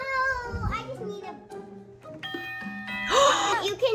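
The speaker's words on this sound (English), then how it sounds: "And then I can press the doorbell" A front-door doorbell rings with a bright, sustained ding-dong chime that swells near the end, while someone speaks excitedly over it.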